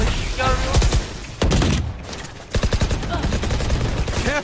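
Rapid gunfire bursts from the video game Valorant, with sharp repeated shots and a few heavy thuds filling most of the moment, loud and close, with voices briefly mixed in.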